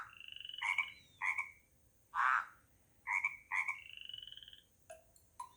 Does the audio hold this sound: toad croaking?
yes